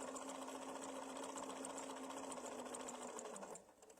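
Sewing machine stitching a practice piece for a mini quilt block, a fast, steady mechanical whir with rapid needle ticking that runs close and even, then stops abruptly near the end, no voices.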